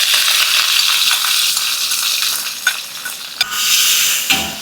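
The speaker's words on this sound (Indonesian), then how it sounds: "Bumbu halusnya kita tumis." Ground spice paste sautéing in hot oil in a pan for an Indonesian patin fish dish, a loud steady sizzle with a few scraping stir clicks, no voices.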